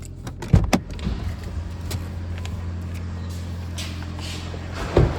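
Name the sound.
electric power windows operating in 2019 Toyota Yaris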